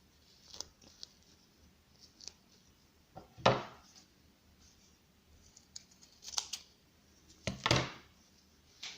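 Scissors snip off excess wool yarn and thin iron wire while crafting a handmade flower, a few sharp separate cuts with quiet rustling in between.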